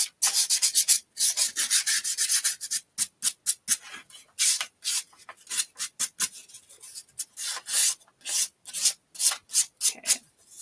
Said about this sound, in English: I am going to try and sand it first